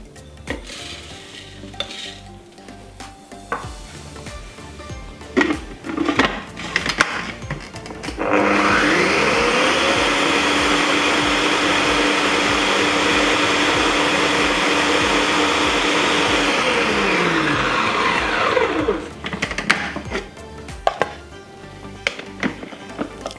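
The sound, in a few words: food processor crushing oats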